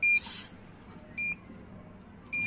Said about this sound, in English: it's doing four beeps as normal